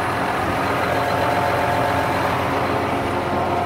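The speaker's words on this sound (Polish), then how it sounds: "Bardzo ładnie pracuje silnik." A 2014 John Deere 7200R PowerQuad tractor engine idles close by, a steady low rumbling chug that stays even and continuous throughout, with no talking.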